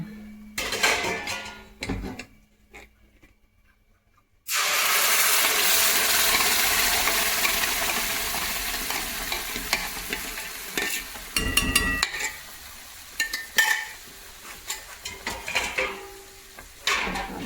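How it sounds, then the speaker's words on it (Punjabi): White malai kofta gravy poured into a hot pan on a gas stove and roasted: a loud, steady sizzle bursts in after a few quiet seconds, with a spoon stirring and scraping against the pan throughout. "ਹੁਣ ਆਪਾਂ ਗਰੇਵੀ ਪਾ ਦੇਣੀ"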